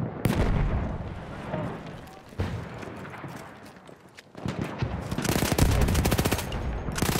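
Automatico submachine gun bursts in the World War I shooter Battlefield 1, several rapid volleys separated by short pauses, with distant battle rumble between them and the heaviest firing at the end.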